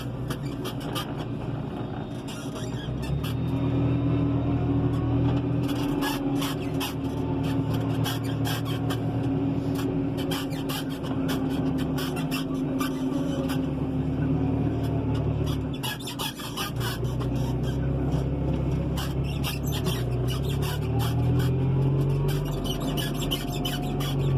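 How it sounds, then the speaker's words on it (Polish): Fendt Vario 412 TMS tractor from 2009 revving and pulling away, a steady loud diesel drone with rising whine and squealing tones, continuous at close range with no talk. "ciągnik zbiera się bardzo dobrze, jest dynamiczny"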